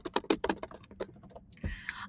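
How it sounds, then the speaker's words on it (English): Quick bursts of computer keyboard keystrokes type out a workshop name, close and crisp, followed by a brief softer tap and a shifting, muffled noise at the end. "you're just going to type the name of the workshop"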